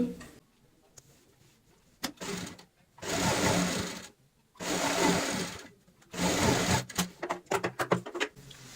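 A sewing machine stitches a strip onto a cushion cover in repeated bursts of fast, loud whirring, each lasting a second or so, separated by brief pauses and small clicks.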